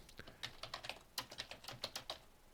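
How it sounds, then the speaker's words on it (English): Keys clatter on a computer keyboard as a sentence is typed, a quick irregular run of close, crisp clicks with short pauses and no talk. "So I just typed a sentence and then I hit enter"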